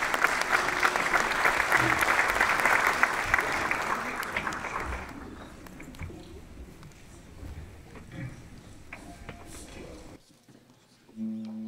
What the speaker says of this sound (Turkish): Şimdi alkışlarınızla koro şefimiz Ferhat Kılıç Aslan'ı sahneye davet ediyorum